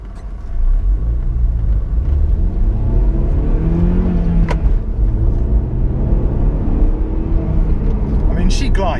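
Honda car accelerating smoothly along a road, held below VTEC. A steady engine rumble rises in pitch and stays close and loud throughout. A click sounds midway.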